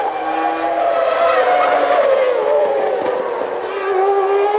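Formula 1 cars of the 1996 season, a Ferrari and a McLaren Mercedes, race at the San Marino Grand Prix. A loud, continuous high-revving engine whine shifts pitch as the cars pass close by.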